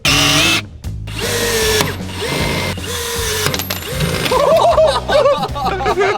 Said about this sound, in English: Then on goes the rivet gun. Oh yeah, there we go. Just pulls the panel together.